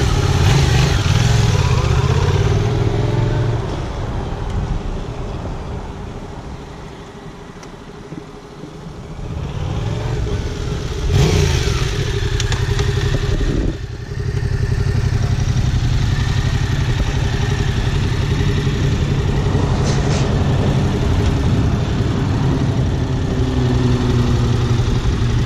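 A brand new motorcycle's engine idles with a steady, loud rumble close by, briefly dipping and then rising again as it revs, with no talk over it.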